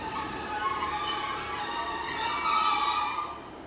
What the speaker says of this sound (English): coming in now will be a cross-country service from Bristol St Meads going to Paignton